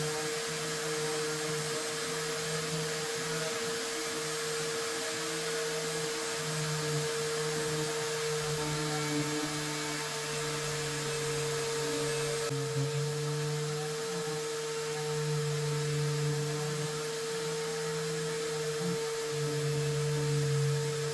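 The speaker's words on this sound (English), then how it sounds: "Now it's time for sanding the bottom." A power sander works steadily across the underside of a wooden farmhouse coffee table with breadboard ends, making a continuous close whine with a faint pitch shift midway, alone with no talk.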